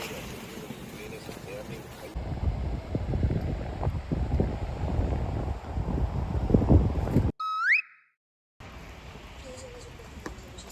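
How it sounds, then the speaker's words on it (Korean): Strong wind and heavy rain batter a camping tent at night at Kkujinamugol Beach in Taean, Korea, a dense continuous roar for about seven seconds before a brief electronic tone and a cut to quieter ambience. "바람 미쳤다. 비 너무 많이 오는데."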